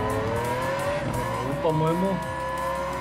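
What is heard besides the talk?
car driving in Hot Wheels Unleashed video game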